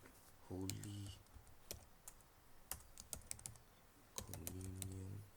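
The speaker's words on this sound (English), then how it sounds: "Now we can now type in" Keys clatter on a computer keyboard in short bursts of quick clicks with brief gaps, quiet and close.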